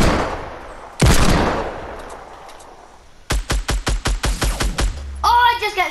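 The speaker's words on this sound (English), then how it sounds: "Oh, I just got sniped." Gunfire in Fortnite Battle Royale, with a sharp loud crack and a decaying blast followed by a rapid burst of about ten evenly spaced shots, close and punchy, ending in a brief electronic game sound.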